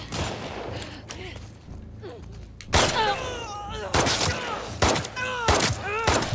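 Gunshots in The Last of Us Part II sound as several loud, sharp separate blasts spaced a second or so apart, mixed with game noise and occasional voices.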